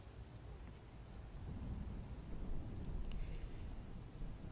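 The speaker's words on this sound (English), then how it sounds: "See, it's still raining outside." Steady rain falling outdoors, a dense even hiss with low rumbling underneath, continuous and moderately loud throughout, no voices.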